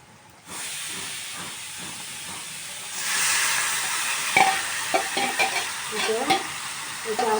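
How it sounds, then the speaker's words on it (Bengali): Chicken meat hits a pan of fried onions and sizzles with a steady hiss, turning louder and crackly as it is stirred, with scraping clinks of the utensil. "পেঁয়াজটা আমার ভাজা ভাজা হয়ে গেছে গিয়ে, যে এখন আমি মাংসটা দিয়ে দিই"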